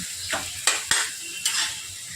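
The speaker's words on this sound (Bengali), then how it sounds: "দেখে একটু নেড়ে দিতে হবে এইভাবে" Squash cooking in a pan is stirred with a utensil, giving three or four short scraping, sizzling strokes close by against a soft frying hiss, with no voices.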